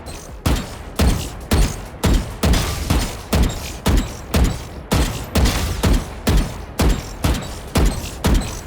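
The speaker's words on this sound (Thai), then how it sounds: "เราจะยิงเสาก่อนหนึ่งนัด แล้วค่อยไ ปยิงตัวของบอทนั่นเองครับผม" Rapid gunfire in the tactical shooter Valorant, shots aimed at a pillar and then at a training bot, landing as a steady string of loud, sharp reports about twice a second, with no talking.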